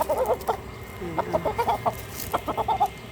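A rooster clucks in short bursts of several quick, close notes, with pauses between each run and no talk over it.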